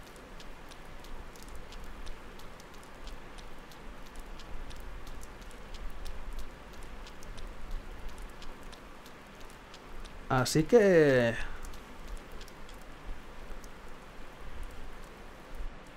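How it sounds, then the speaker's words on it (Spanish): Rain falls steadily in the video game Persona 4 Golden, a soft continuous patter under someone speaking Spanish, with a brief brighter game sound effect midway. "Está lloviendo"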